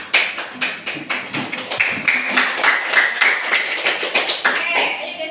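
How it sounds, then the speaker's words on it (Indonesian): A classroom of children claps hands together in a steady, fairly loud burst of many overlapping claps, with some voices mixed in. "Tepuk tangan."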